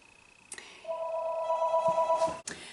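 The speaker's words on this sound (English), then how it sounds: "Sorry, the phone rang" A telephone rings with a steady electronic warble lasting about a second and a half, with a click before it starts and a sharp cutoff at the end.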